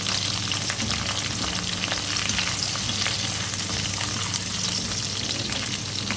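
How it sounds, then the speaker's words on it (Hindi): Cumin seeds and curry leaves sizzle in hot oil with light golden onions, a loud, steady, close crackle of frying that holds evenly throughout with no voices. "1 टीस्पून ज़ीरा डालूंगी इसमें। 6-7 कड़ी पत्ते हैं, ये डालूंगी। फ्राई करेंगे इसको।"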